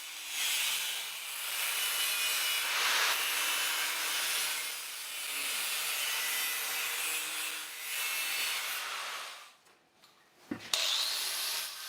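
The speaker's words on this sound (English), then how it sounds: "The angle grinder was out again to cut a 50-degree angle on the ends of these pieces." An angle grinder cuts 50-degree angles on the ends of 1x2 steel HSS tubing for a Jeep XJ Cherokee rear bumper, a loud, steady abrasive hiss that continues almost unbroken, dips briefly near the end, then resumes.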